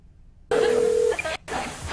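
A touch-tone telephone dials a movie phone line, a loud steady tone followed by a brief break and then another tone, with faint speech in the background.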